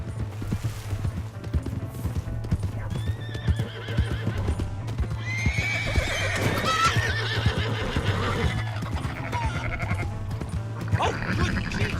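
In Red Dead Redemption 2, rhythmic hoofbeats thud steadily throughout while a horse neighs loudly in the middle and again near the end, over a low hum.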